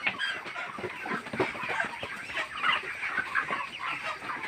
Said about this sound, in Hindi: तो काफ़ी सारे मुर्गियाँ हैं